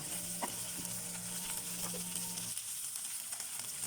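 Sayote frying with a burger patty in a rice cooker, a faint, steady sizzle with light stirring scrapes and a low hum that stops partway through.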